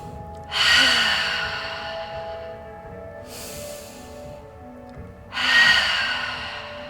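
Slow, audible yoga breaths taken while resting in child's pose, three long airy breaths with gaps between them, close and fairly loud against a quiet room with no talk.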